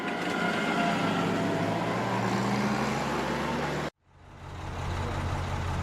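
Heavy trucks at a cement plant, where pallets of bagged cement are loaded for dispatch, give off a continuous loud engine and road rumble that cuts out abruptly for a moment near the end, then swells back up.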